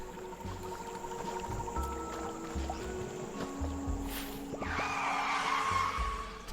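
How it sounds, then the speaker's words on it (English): A tire screech in the Bear and Breakfast video game, a rising, hissing squeal that erupts loudly and holds for about two seconds over soft ambient game music and light background noise. "Tire screech."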